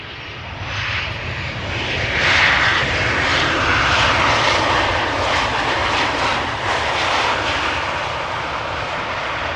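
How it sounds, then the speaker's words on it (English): A Boeing 737-900 from Geneva touches down with reverse thrust, a loud, close roar that builds and holds before easing off. "In the meantime, a 737 900 arriving from Geneva,"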